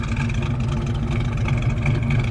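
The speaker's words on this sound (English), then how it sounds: "Exhaust sounds great." A 1967 Chevrolet Chevelle Malibu Wagon with its engine running, exhaust giving a steady, loud low rumble at idle, heard up close with no talking.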